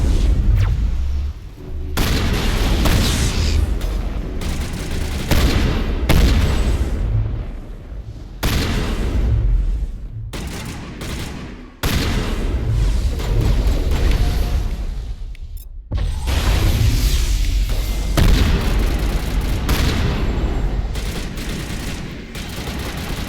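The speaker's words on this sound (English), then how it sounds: "how many shotgun blasts does it take?" Heavy booming shotgun blasts and explosions from Mass Effect Legendary Edition combat pound almost continuously, loud and close, with short gaps of quiet between the barrages.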